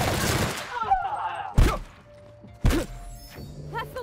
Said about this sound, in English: I'm gonna shoot you with my gun and then beat you to death with it.